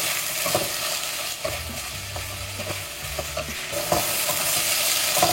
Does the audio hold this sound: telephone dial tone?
no